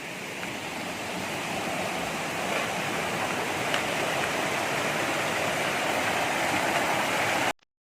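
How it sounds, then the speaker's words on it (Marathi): Small rural stream running full after several days of heavy rain, a steady close rush of water with no pauses or voices, cutting off abruptly at the end. "हा छोटा वल आहे. या वलाला आता 4-5 दिवस पाणी आहे, सतत पाऊस आहे मुसळधार, म्हणून पाणी आहे."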